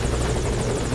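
Helicopter in the video game Metal Gear Solid V: Ground Zeroes, a loud, steady rotor roar with rapid blade chop filling a short stretch, heard alone without talk.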